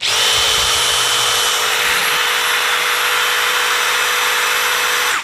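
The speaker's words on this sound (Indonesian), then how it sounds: "Impact drill, beda nih putarannya nih." An impact drill runs continuously at steady high speed, a loud, close mechanical whine with a sustained buzzing tone that holds for the whole stretch before cutting off at the end.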